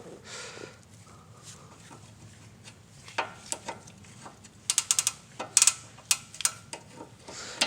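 A ratchet wrench loosens the 19 mm tie rod bolt on an Acura RSX Type S during front shock replacement. After a quiet start, close bursts of sharp, rapid clicks come in quick runs through the second half.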